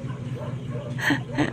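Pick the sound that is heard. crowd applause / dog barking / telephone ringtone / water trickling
dog barking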